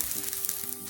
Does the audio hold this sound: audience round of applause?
no